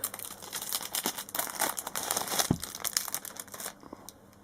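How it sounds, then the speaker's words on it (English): Close, crackling crinkles of a plastic bag being handled, irregular and continuous, with a soft tap near the middle. "I'm getting out the plastic bag."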